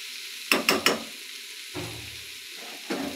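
Spice masala frying in a pan, with three quick stirring clacks followed by bursts of sizzling and scraping that come and go, heard close with no voices.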